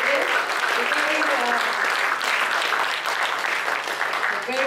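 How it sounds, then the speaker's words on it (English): An audience applauding at the close of a panel discussion on agricultural biotech, a steady sustained round of clapping from many hands filling the room throughout. "we'd like to give a round of applause to all of us"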